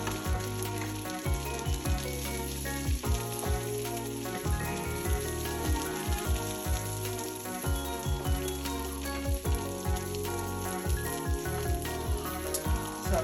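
Cherry tomatoes sizzle and fry in a pan for a creamy chicken Tuscan dish, a steady crackling hiss with occasional small pops, close and continuous with no talking.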